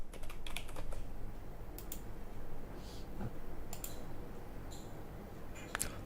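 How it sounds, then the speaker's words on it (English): Keys clatter on a computer keyboard in quick, irregular bursts of light clicks, close up over a faint steady background hum, with a few sharper taps scattered through. "we'll type in Penta"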